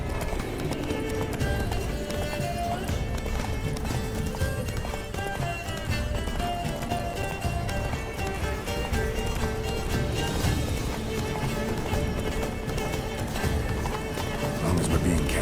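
Roach, Geralt's horse in The Witcher 3, gallops in a rapid, rhythmic clip-clop of hooves that runs steadily throughout, with game music and voices talking over it.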